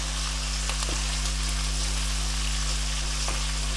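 Finely chopped green chillies, seven or eight of them, fry in a pan for a ridge gourd peel and potato sabzi. A steady, close sizzle runs unbroken throughout, with a faint low hum beneath and no voices.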